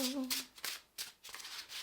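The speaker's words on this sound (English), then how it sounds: "Let me just shuffle real, shuffle." A tarot card deck, somewhat stiff and new, is shuffled by hand in a series of quick, soft papery riffles and flutters, close and quiet, with a brief voice at the start.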